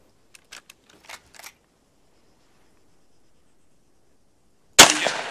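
A few light mechanical clicks and clacks of a Mk153 SMAW launcher reloading in Arma 3 sound close up, followed by silence and then a sudden loud shot.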